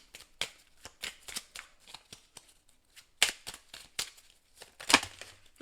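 An oracle deck is shuffled close up, with irregular soft riffling and slapping bursts, a few sharper snaps, and quiet gaps between them. No speech is heard.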